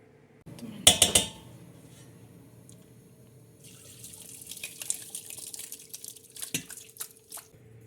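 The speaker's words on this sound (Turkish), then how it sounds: "Süzekten geçirelim." Boiled curdled milk for homemade cheese is poured through a strainer, starting with a sharp clattering splash, then a steady trickling and dripping that grows busier toward the end.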